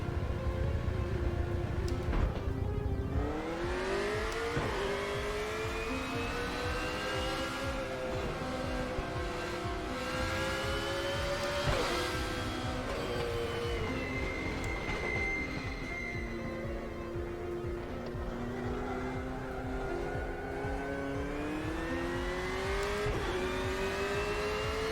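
Race car engines in the RaceRoom Racing Experience video game rev and climb steadily through gears, a continuous loud harmonic drone rising and falling in pitch with no talk over it.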